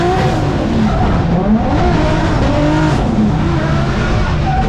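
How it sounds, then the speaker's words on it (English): A car drifts on a mountain touge road in the USA, tires squealing in long wavering howls over a loud, continuous engine roar, close and sustained throughout. "Car comes out of drift."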